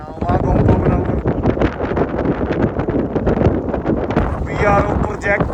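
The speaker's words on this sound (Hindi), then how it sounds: "बहुत ज़्यादा तेज हवा है, बहुत ज़्यादा धक्का दे रही है इसमें।" Strong gusting wind near Shinkula Top in the Zanskar mountains, loud and buffeting against the microphone, with someone talking over it.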